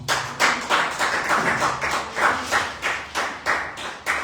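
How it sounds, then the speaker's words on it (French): A church congregation in Martinique claps in a steady rhythm, about two sharp claps per second, fairly loud and close, with a faint murmur underneath. "Est-ce qu'on peut donner des acclamations?"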